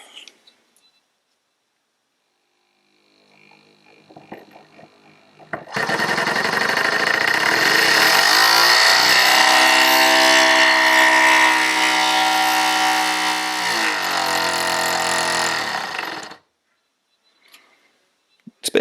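A small replacement electric motor on a homemade distributor test machine for a 1969 Triumph GT6 Mk2 whirs up and runs as a loud, steady buzzing drone for about ten seconds, then stops, with faint handling noises before and after.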